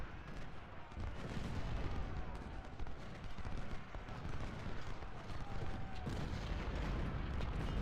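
Artillery fire in the Ultimate General: Civil War game, heard as a continuous rolling rumble of booming cannon shots and battle noise across a Second Battle of Winchester engagement, loud and dense throughout without pause.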